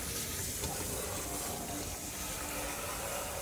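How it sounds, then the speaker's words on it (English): Tap water runs steadily into a sink while rinsing during a home routine, a continuous hissing rush without pause, fairly faint and close, with no talking over it. "let me rinse a little bit first"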